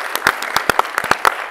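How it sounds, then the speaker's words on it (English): Brief, crisp clapping from an audience at a film talk event, with individual claps standing out in a quick, uneven patter close by. "And then my huge round of applause to the audiences."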